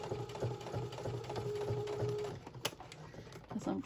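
Sewing machine stitching in the ditch along the binding of a Christmas mug rug, a steady mechanical whir with rhythmic pulsing that runs for about two seconds and then stops, leaving quieter handling noises.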